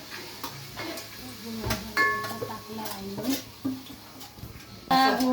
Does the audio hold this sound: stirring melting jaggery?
yes